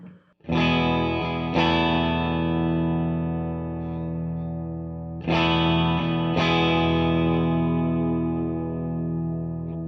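Sustained guitar chords through an EarthQuaker Devices reverb pedal ring out with a washy reverb tail, two strums near the start and two more later, each decaying slowly into a lush ambience.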